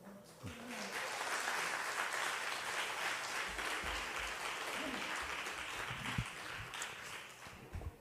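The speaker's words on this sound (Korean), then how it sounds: "우리 목사님 나오실 때 큰 박수로 환영하겠습니다." A church congregation applauds to welcome a visiting pastor before a Sunday sermon, a dense, steady wash of clapping filling the hall for several seconds, with faint voices and low rumbles underneath.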